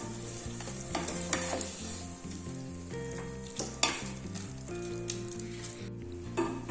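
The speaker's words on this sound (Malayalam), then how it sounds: "ആദ്യം ഇതെല്ലാം കൂടി നന്നായിട്ടൊന്ന് മിക്സ് ചെയ്ത് കൊടുത്തിട്ട് ഇത് നന്നായിട്ടൊന്ന് തിളച്ച് വരട്ടെ" Chicken stew in coconut milk is stirred in a pot. It gives a steady, close sizzle and bubbling with rhythmic scraping strokes and no talk.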